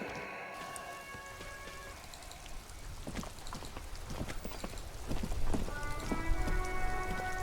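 Steady rain pattering on surfaces in the detective game Disco Elysium, with scattered drops and a few hollow knocks over a soft background tone that swells slightly toward the end.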